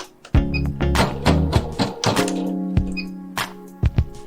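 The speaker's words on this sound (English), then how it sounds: "lower the presser foot, and press the Start/Stop button to begin the embroidery process" An EverSewn Sparrow X sewing and embroidery machine starts up for embroidery, giving sharp mechanical clunks and taps at an irregular pace, close and fairly loud, with no talking.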